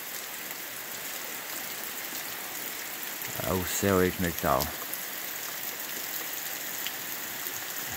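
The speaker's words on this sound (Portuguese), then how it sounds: "Mostrando para vocês aqui um pouco aqui a chuva caindo aqui no Jatobá" Steady early-morning rain at Jatobá in the Bahia backlands, a constant soft hiss throughout, with someone briefly talking over it midway.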